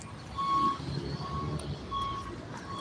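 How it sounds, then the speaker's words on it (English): A truck rumbling past outdoors with a low engine drone, its reversing alarm beeping in spaced, repeated tones over the passing noise, moderately near. "He hears the truck again."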